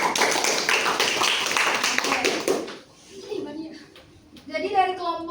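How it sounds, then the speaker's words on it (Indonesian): Classroom applause during a micro-teaching practice session, a short burst of steady clapping from a small group for about three seconds, followed by speech. "sekali lagi beri aplaus untuk kelompok"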